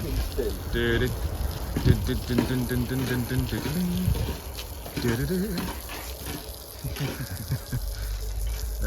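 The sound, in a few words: water jet washing away cutting slurry on road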